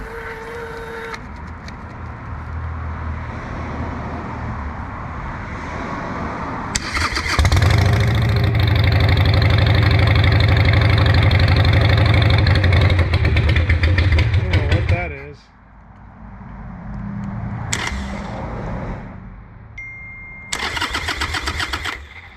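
Harley Sportster 883 Iron motorcycle with a suspected failing EFI fuel pump cranks and fires into a loud, rumbling run for several seconds, then cuts out; a second brief attempt follows, with a voice speaking around the attempts.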